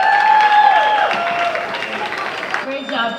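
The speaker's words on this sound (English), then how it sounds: "We'll give him another round of applause" Applause from a gala audience at a Cape Verdean community event in Brockton, a steady crowd-wide clapping texture with some tonal sounds and voices mixed in, fading slightly toward the end.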